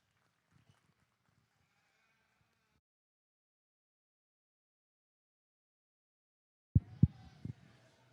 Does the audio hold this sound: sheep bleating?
yes